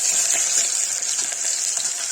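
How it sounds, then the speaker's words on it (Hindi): Steady, loud sizzling of beans frying in hot oil, a continuous crackling hiss with no talking. "ये तेल गर्म हो गया है। इसमें मैं डालूंगी बीन्स।"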